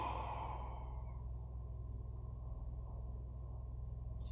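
A single long, breathy exhale through the open mouth, as in yoga lion's breath, close and soft, fading into a quiet low hum.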